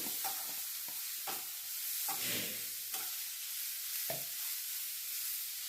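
Raw cumin seeds being stirred in a hot pan, with a spoon scraping and rattling in several distinct strokes over a faint, steady sizzle.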